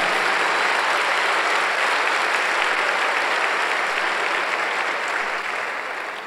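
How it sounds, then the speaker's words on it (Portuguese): Sustained applause from a church congregation at a Sunday service, a dense steady wash of many hands clapping loudly without pause, easing slightly at the very end. "Vamos dar um aplauso a Ele?"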